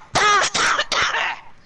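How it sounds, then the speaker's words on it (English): A person coughs three times in quick, harsh bursts, close and loud, with nothing else heard around them. "I'm not sick, I always cough like that."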